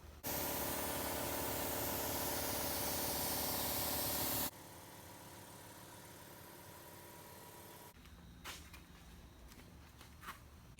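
Loud, close hiss of a spray gun laying clear coat on a car for about four seconds, then cutting to a quieter steady hiss and later a softer, roomier background with a few faint clicks.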